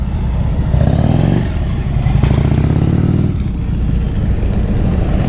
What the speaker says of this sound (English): When the bike leaped ahead, you went out of the friction zone